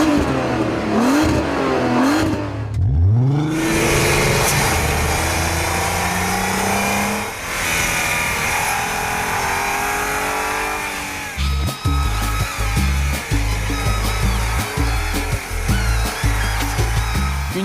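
Audi TT 3.2 V6 Quattro with a 250-horsepower VR6-derived engine revving and accelerating through rising gears, loud and close, followed by a rough, pulsing engine note.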